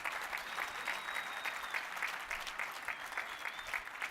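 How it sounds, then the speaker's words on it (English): Steady applause from a panel audience at a weather and climate event, a continuous patter of many hands clapping at moderate distance, faint overall, with a thin whistle-like tone drifting over it twice. "Let's give Nolan a round of applause"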